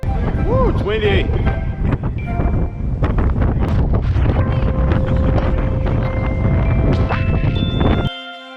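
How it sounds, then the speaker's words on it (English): Strong wind roars across the open deck of the Disney Wonder cruise ship, buffeting the microphone in a loud, continuous rush with passing voices and other sounds mixed in, then cutting off abruptly near the end. "Woo, it's windy."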